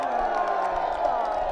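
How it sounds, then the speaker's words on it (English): A big crowd of local supporters cheers and whoops at a Paganello 2015 ultimate frisbee match, a loud, continuous roar of voices. "as you can hear, a big crowd from local supporters"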